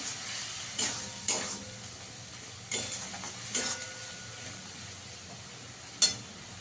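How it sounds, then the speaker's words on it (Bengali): Spices including Kashmiri chilli powder and coriander powder sauté in hot oil for a Bengali fish curry, giving a soft sizzle under a few distinct spoon scrapes and stirs spread through a quiet stretch. "মশলাটাকে একটু ভালো করে কষিয়ে নিতে হবে।"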